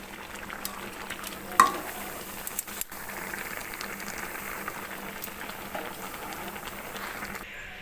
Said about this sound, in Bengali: সবজিটা এখানে আমি সিদ্ধ করে নিচ্ছি ঢাকা দিয়ে